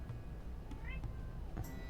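A house cat gives a few short meows close by, over a low background hum while a game plays, with a voice around it.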